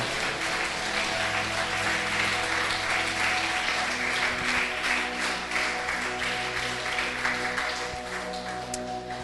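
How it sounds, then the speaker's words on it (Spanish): A church congregation applauding in worship, a loud continuous wash of clapping from many hands over a sustained musical drone, steady throughout without speech. "Dele un aplauso al Señor Jesús"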